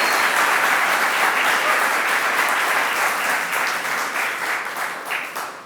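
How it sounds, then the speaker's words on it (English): Audience applause at a climate resiliency showcase event as an innovator is introduced, a dense steady clapping from a sizable crowd that holds strong for several seconds before tapering slightly toward the end. "We can clap."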